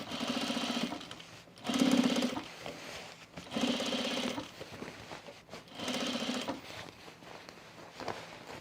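A sewing machine top stitches a pleat on a men's utility jacket in four bursts of rapid, buzzing stitching, separated by short pauses with soft handling sounds, close and clear.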